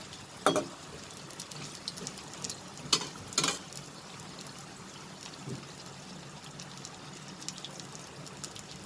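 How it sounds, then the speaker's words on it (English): Bitter gourd (karela) slices deep fry in oil over a high flame, giving a continuous hissing, bubbling sizzle with a few louder spattering bursts early on. It sounds close and moderately quiet, with no voices. "Deep fry them over high flame."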